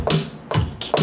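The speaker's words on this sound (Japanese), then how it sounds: "こういうハウスの音とか" A house-style drum pattern on a Korg Kaossilator Pro: three punchy electronic kick-and-hit strikes in a steady, evenly spaced rhythm, close and clear with no talking.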